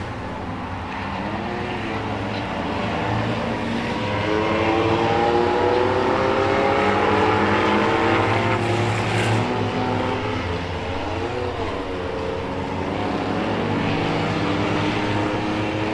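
Race cars roar around a dirt track during a 6-shooter feature race, a steady dense wall of engine noise with shifting, overlapping pitches as cars pass, loud and continuous throughout.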